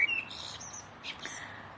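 Birds chirp and sing outdoors on a spring day, with a few short, high tweets and calls close by over a faint, quiet background.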